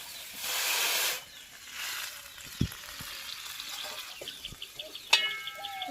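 Water poured into a hot pan of cauliflower and potato fish curry gives a loud sizzling hiss for about a second, then a quieter sputtering simmer with a few sharp clinks from a utensil.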